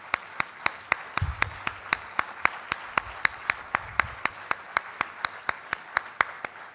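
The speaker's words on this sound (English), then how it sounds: "Shall we all give your parents a good round of applause" Graduation audience applauding the graduates' parents, heard as steady, evenly spaced loud claps close by, with a faint low murmur underneath.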